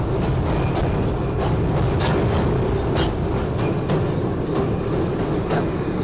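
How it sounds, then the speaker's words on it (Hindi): The Karakoram Express in Pakistan rolling across a bridge on a curve, a steady loud rumble of wheels on rails with rhythmic clickety-clack beats, heard from on board. "और ट्रेन एक बहुत ही खूबसूरत गुलाई में है इस वक्त ब्रिज क्रॉस करते ही"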